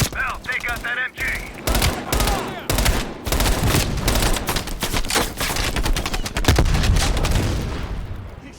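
Sustained, loud bursts of machine gun fire mix with explosions in Call of Duty: Black Ops Cold War, rattling almost continuously through the stretch while voices shout faintly underneath.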